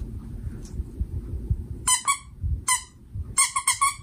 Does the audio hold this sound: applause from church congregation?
no